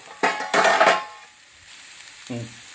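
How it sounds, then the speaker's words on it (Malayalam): Two large finely chopped onions dropped into a pan and stirred for egg bhurji: two loud bursts of sizzle and scraping close by, then a quieter stretch ending with a soft metallic clink. "2 വലിയ സവോള ചെറുതായിട്ട് അരിഞ്ഞത് ഇട്ടോ. ഇതിനകത്തോട്ടിട്ടു. നന്നായിട്ട് ഇളക്കി കൊടുത്ത് നന്നായിട്ട് ചിക്കിക്ക്"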